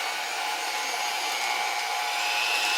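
Electric hand mixer whirring steadily and loudly throughout as it mixes cookie dough, a constant close motor drone with no talking.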